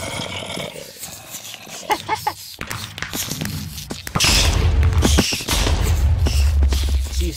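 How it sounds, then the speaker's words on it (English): Explosions in the video game Dissent: a run of sharp bangs and crackles, then a loud sustained rumbling blast layer that keeps going to the end, heavy and close. "You still can get explosions in here."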